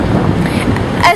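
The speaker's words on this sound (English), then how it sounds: "As you can tell, it's quite windy." Strong gusts buffet the microphone on the windy Wellington waterfront, a loud, rough low rumble throughout with a sharper gust near the end, heard alone.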